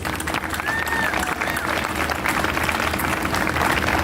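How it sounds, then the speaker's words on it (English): A large crowd at an opening ceremony applauding, sustained dense clapping with cheers and voices mixed in throughout. "join me in giving this community-minded businesses and all of our sponsors a big round of applause"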